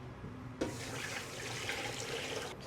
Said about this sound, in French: il faut mettre un volume de semoule pour un volume d'eau froide.